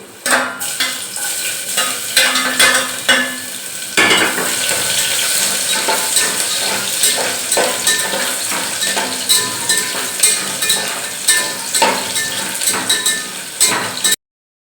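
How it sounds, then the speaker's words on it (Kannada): Peanuts and garlic fry in hot oil in a pan while making churmuri, a continuous close sizzle broken by repeated scraping and clinks of a metal spoon stirring against the pan. "ಈಗ ಇದಕ್ಕೆ ಬೆಳ್ಳುಳ್ಳಿ ಹಾಕ್ತೀನಿ"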